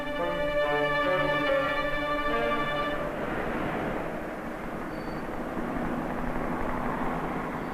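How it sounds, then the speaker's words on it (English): Police helicopter flying over a city, a steady broadband rotor and engine roar that stays loud and constant throughout, with a harmonic drone in the first three seconds before it gives way to a wash of noise. "Whirling over the city, a police helicopter reports traffic movement to the operations center."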